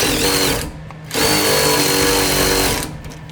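A power tool whirs loudly as a bolt is run into the vertical suspension links of a 20+ Ford Explorer ST, in two long bursts separated by a brief dip in pitch and level.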